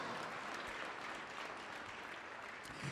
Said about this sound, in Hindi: ताली बजाकर धन्यवाद करो परमेश्वर का